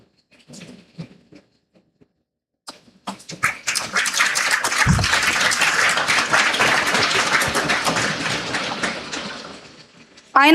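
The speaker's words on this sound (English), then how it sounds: "With a huge round of applause, please welcome Mr. Sergey." Conference audience breaks into a big round of applause at a felicitation ceremony, starting after a few seconds of faint sounds and swelling into sustained, dense clapping that fills the room for the rest of the clip.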